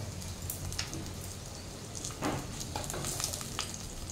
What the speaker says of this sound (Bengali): মাছ আমার ভাজা হয়ে গেছে ভালো মতো, ভীষণ কড়া করে আমি ভেজে নিয়েছি।